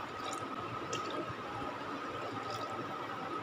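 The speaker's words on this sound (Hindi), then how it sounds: "3 गिलास चावल लिए थे, 6 गिलास यहाँ पे हम पानी शामिल कर रहे हैं।" Water is poured steadily into a pot of fried chickpeas for chana pulao, a continuous soft splashing and trickling that stays even and moderately quiet throughout, with no voices.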